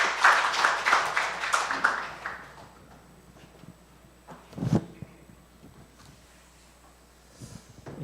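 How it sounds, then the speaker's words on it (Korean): At a Korean church ministers' gathering, a brief burst of audience clapping fills the opening seconds, then fades into a quiet room with a few faint knocks and shuffles. "박수하겠습니다."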